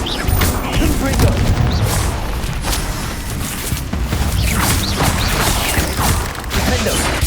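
A Confringo explosive spell blast in Hogwarts Legacy lands with a loud, dense booming crash that rolls on continuously amid other combat noise.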